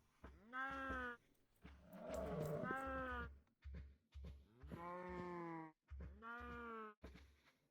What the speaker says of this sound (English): I heard the start of a cave sound.